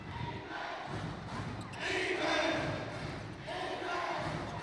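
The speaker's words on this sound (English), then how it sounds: "Saigon Heat crowd on their feet." A basketball arena crowd roars and cheers on its feet during a Saigon Heat semifinal game, with a dense, sustained swell of noise and an announcer talking over it.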